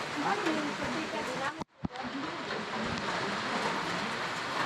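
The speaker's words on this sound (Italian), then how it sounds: "Solo oggi che abbiamo deciso di fare il video, giustamente si è messo a piovere." Steady rain pours down while people shelter under a roof on Moalboal, Cebu, a continuous hissing wash with a brief drop-out partway through and no clear talk over it.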